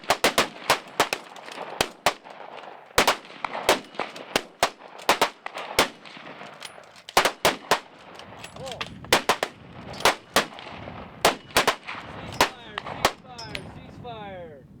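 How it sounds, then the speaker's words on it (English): Gunfire at an outdoor shooting range, some weapons fired singly and some fired together, sounding as sharp cracks in irregular bursts and scattered single shots. Lighter overlapping pops and a faint voice run underneath. "Weapons were fired both individually"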